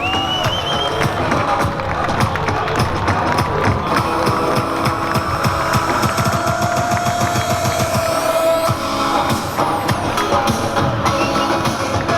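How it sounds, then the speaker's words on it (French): A crowd at a women's triple threat professional wrestling match applauds and cheers steadily and loudly, dense clapping filling the whole stretch with some voices in the background. "Vous pouvez l'applaudir très fort."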